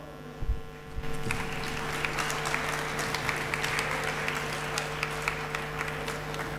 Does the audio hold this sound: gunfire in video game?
no